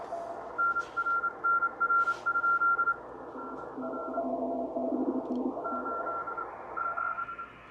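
Morse code CW signal from a Kenwood TS-830S HF hybrid transceiver: steady beeping tones keyed in on-off patterns of dots and dashes, pitch shifting midway as the passband tuning is adjusted, over faint receiver hiss.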